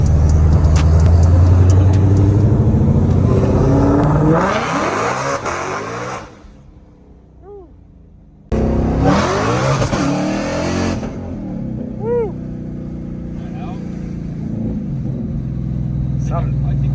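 A 2020 Shelby GT500 on an 1100 hp setup accelerates hard through 60-130 mph pulls, its engine roaring loudly with rising revs. It briefly drops to a lull, then surges again with another loud, sustained run.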